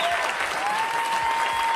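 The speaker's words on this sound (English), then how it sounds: "I think we owe them some applause, don't you?" An audience applauding comedians at a comedy show, a dense, steady wash of clapping that fills the room.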